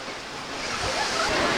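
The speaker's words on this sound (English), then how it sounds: "the waves are acting up" Surf washing in at Sand Beach in Acadia National Park, Maine: a steady, broadband roar of breaking waves that builds slightly toward the end, close and fairly loud, with no one talking.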